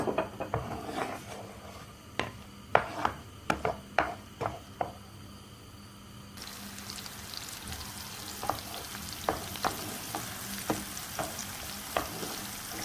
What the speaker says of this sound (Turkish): Bir adet soğanı yağda pişiriyoruz.